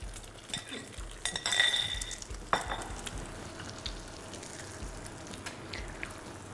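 A tuna omelette frying in hot oil, stirred with a heat-resistant plastic spatula: a soft sizzle under scraping and light clinks of the spatula against the pan, close by, with no speech.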